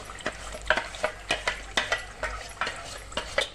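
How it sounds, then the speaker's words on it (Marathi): Ground masala paste for a Maharashtrian katachi amti stirred in hot oil, a steady sizzle with repeated scraping strokes of a spoon every half second or so, close and fairly loud, no voices. "तेल तापला आता आपण आहे ना वाटून घेतलेला हा मसाला आहे ना तेलामध्ये टाकून घेऊ"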